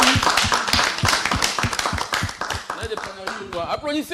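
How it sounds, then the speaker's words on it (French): Audience applause at an evening jazz show, dense overlapping claps sustained throughout, with a voice speaking over the clapping toward the end. "Applaudissez s'il vous plaît."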